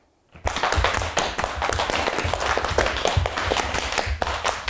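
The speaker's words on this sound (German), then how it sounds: "jetzt kommt zu jedem Schritt zwei Klatscher" A group doing body percussion claps quickly and continuously, bright close hand claps mixed with stamping thuds, starting after a short silence and running dense and fairly loud without speech.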